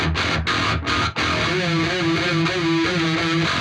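Heavy distorted electric guitar riff panned to the mono center with a very small, tight reverb, loud and chugging with a few brief stops before a steady palm-muted pattern.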